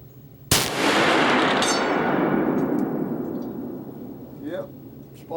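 A single loud, close gunshot from a smokeless muzzleloader rifle cracks sharply and then rolls away in a long decaying echo, with a faint voice near the end.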